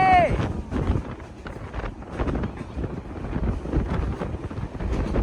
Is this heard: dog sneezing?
no